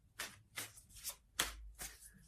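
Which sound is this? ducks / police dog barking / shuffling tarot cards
shuffling tarot cards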